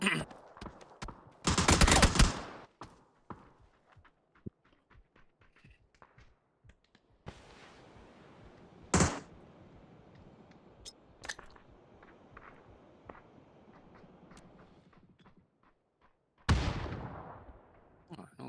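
Video game gunfire arrives in scattered bursts and single cracks, with a loud volley at the start and more toward the end, mixed with quieter game sounds and occasional talking.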